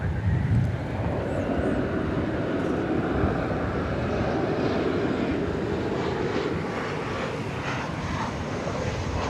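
A Boeing 777-300ER airliner turning on the ground at DFW Airport gives off a continuous low, broad engine roar, fairly distant and steady throughout, with faint wind noise and no voices.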